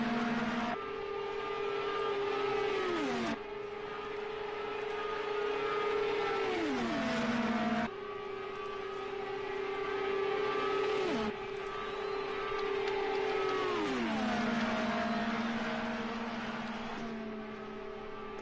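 Indy race cars scream past in a racing game during an Indy 150 online race, engines holding high steady whines that drop in pitch as each car passes, repeating in waves, loud and close with no talking.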